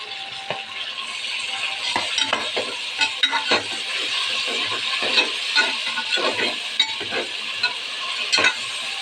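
Tomatoes stirred and fried in a pan with ginger and garlic for tomato biryani, giving a steady sizzle broken by repeated scraping and stirring clicks of a spoon against the pan.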